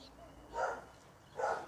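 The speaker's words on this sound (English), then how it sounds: "it's just running in circles barking at the ground" A backyard dog running in circles gives two short barks about a second apart, somewhat distant and moderately loud.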